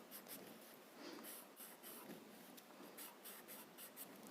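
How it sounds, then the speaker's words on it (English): Chalk pencil scratches across paper while a highlight is added to a drawn border, a faint, steady, close scraping with small rhythmic strokes. "Now use your chalk pencil and add a highlight on your border"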